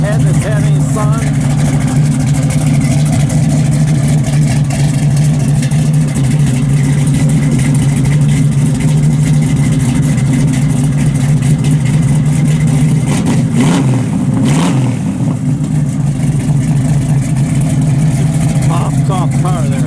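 A 1968 Chevrolet Camaro engine runs steadily with a deep, continuous low rumble while driving, loud and close throughout, with a brief swell near the end.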